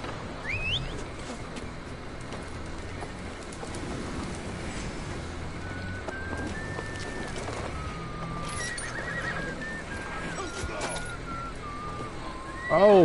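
A horse in the video game Assassin's Creed Valhalla whinnies amid game ambience and hoof clops, with scattered tonal effects and a louder burst at the end.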